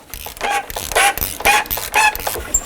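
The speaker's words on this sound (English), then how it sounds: "we will take a 15 millimeter socket and loosen up the bolts" A 15 mm socket on a ratchet loosening the belt tensioner bolts on a 1984–2001 Jeep Cherokee, a series of close creaking, clicking turns in roughly regular bursts about half a second apart.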